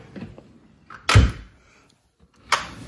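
A drawer in a craft room slides open with a solid thunk, followed a moment later by a second sharp knock, close by in an otherwise quiet room.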